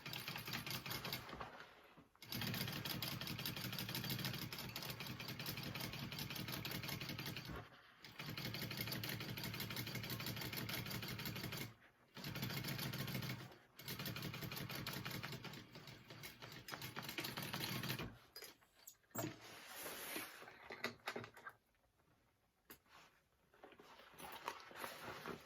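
A sewing machine top stitching a mini backpack runs in long steady whirring bursts, close and alone, pausing briefly between seams before a final stretch of shorter stop-start stitching.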